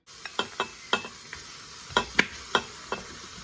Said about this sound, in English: So into the instant pot goes the mutton.